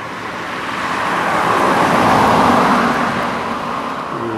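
Roadside traffic on the GO-239 highway, where a single vehicle approaches and passes close by with a broad rushing swell that peaks midway and fades, and no voices are heard.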